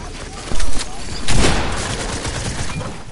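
Bursts of rapid double SMG gunfire ring out in a video game, two short loud volleys a second apart, with fainter shots trailing after.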